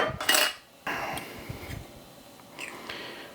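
A knife pries at the lid of a jar of pickled vegetables, giving a sharp metallic clink and scrape up close, followed by softer rattling and light taps.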